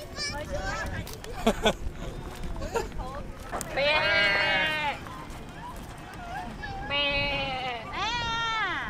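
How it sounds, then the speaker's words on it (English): Several sheep in a flock bleat in wavering, drawn-out calls, some overlapping, with people talking and moving around nearby outdoors in Vietnam. "we just spotted a flock of sheep"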